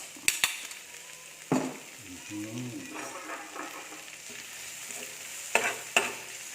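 Curry paste frying in oil in a pan while a beef dish is being cooked, giving a steady soft sizzle with a few sharp clatters of stirring near the start and end; brief speech is heard in the background.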